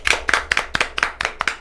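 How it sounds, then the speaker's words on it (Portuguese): A few hands clap in an irregular, sparse rhythm of about a dozen sharp, close claps, welcoming a guest on a podcast; no voices are heard. "Uma salva de palmas para nossa convidada"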